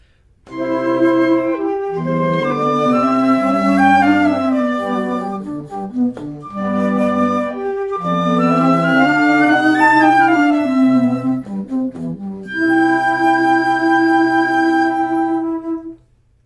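A flute choir plays together in rich harmony, sustained chords and moving lines in phrases separated by brief pauses, closing on a held chord.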